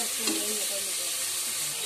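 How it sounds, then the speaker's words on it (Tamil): Prawn biryani base sautéing in a pan until browned, heard as a soft, even sizzle with faint stirring scrapes, close but fairly quiet throughout. "நல்லா ப்ரௌன் ஆகிற வரைக்கும் நல்லா வதக்கிட்டே இருங்க"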